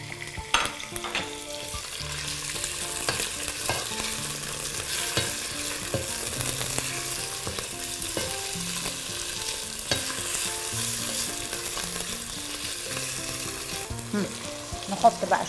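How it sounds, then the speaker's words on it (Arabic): Minced meat frying with onion in a pan, a steady close sizzle with scraping stir strokes throughout, no talking. "خلاص البصلة كده حلوة قوي، بنحط اللحمة"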